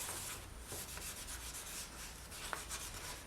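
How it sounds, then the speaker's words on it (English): A piece of polymer clay is buffed by hand, a continuous soft rubbing and friction hiss close by, even in level throughout with no talk. "I'll show you how to buff by hand"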